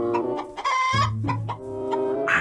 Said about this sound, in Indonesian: Ini anak ayam teman-teman